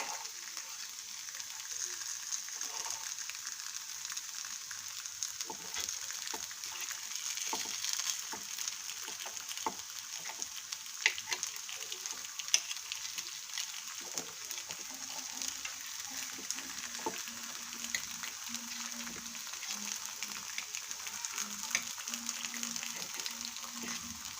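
Oats and green moong appe frying in a pan as they are flipped, a steady soft sizzle throughout with occasional light clicks and scrapes, no talking.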